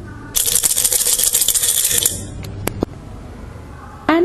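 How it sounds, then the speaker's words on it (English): Dry beans or pulses are shaken in a jar in a steady, rapid rattle for about two seconds, followed by a few separate clicks and a short final shake, close and with no voices. "dry beans or pulses put in a jar or container,"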